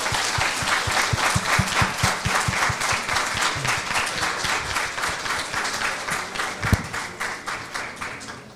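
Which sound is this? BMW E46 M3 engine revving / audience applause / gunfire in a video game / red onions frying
audience applause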